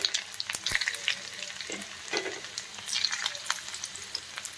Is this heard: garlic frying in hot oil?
yes